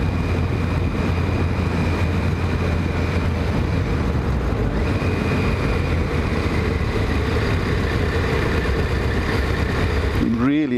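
Kawasaki ZX10 motorcycle ridden on new tyres, a steady loud engine drone with constant wind rush throughout, close and continuous with no pauses.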